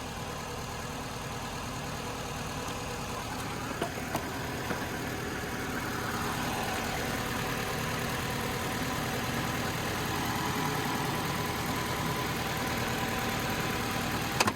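A car engine idles steadily with a working alternator charging and no jump box attached. The hum is constant and mid-pitched, with faint faster ticking layered in and a few small knocks, and nobody talks.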